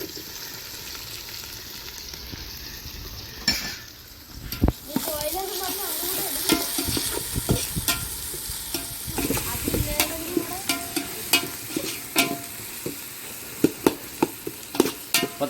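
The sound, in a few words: chopped tomatoes frying and being stirred in pan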